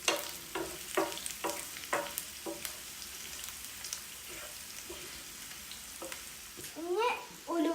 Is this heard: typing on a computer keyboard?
no